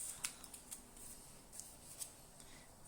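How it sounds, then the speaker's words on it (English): Scissors snip the ends off a handmade card, giving several faint, crisp cuts spaced irregularly in a quiet room, with no talking. "Snip the ends off."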